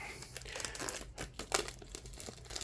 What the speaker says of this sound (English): We just want to peel off the plastic.